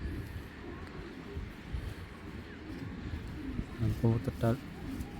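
Deep cooing from a large pigeon comes in a short burst of a few repeated notes near the end, standing out over the earlier muffled noise.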